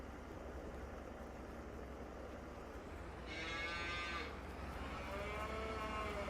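Cattle on a farm in Farming Simulator 22 moo, one loud, clear low call midway followed by another fainter moo, over a steady background engine hum.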